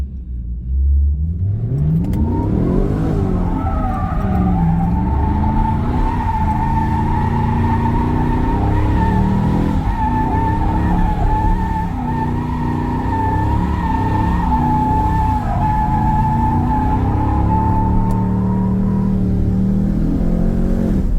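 A Chevrolet SS with traction control switched off revs hard while drifting sideways, its mid-pitched engine note climbing and holding loud and close for the whole stretch with a steady rumble and faint tire scrub beneath.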